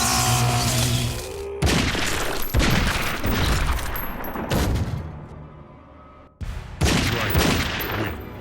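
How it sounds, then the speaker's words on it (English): Gunfire from the Stryker fatality in the Mortal Kombat fighting game: loud, dense bursts of rapid shots and booms with a brief drop to near silence before a final volley resumes. "sometimes it feels really good to just pull out a gun and do things the old-fashioned way"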